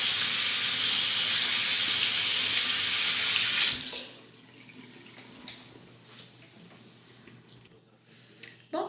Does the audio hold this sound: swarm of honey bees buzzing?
no